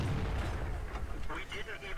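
A tank cannon fires in a tank video game, a deep booming blast with rumbling echo, followed by a voice talking over the fading aftermath.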